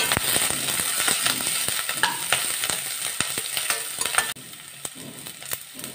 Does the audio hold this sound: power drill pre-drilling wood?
no